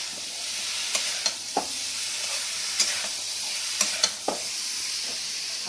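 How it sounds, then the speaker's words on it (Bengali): Ridge gourd and potato sautéing in a pan for a Bengali meal, a steady sizzle broken by repeated scraping stirs and clacks of the spatula, close and fairly loud with no voices. "ঝিঙে আলুটা দেখছেন কেমন কষা কষা হচ্ছে"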